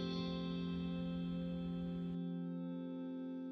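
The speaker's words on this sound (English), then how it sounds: "I also had one clean electric guitar" Clean electric guitar sustains a soft, steady chord, faint and even, with a low rumble beneath that drops out partway through while the ringing notes carry on alone.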